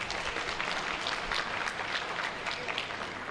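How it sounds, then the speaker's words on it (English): Audience applause at the Uganda-China Economic Investment and Trade Cooperation Forum 2017, a business forum: dense, sustained clapping from a large crowd, steady and even throughout. "a round of applause."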